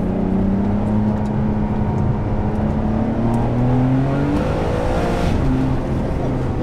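Ferrari 599 HGTE V12 engine and exhaust, heard from outside, drone steadily with rising and falling revs under someone talking throughout.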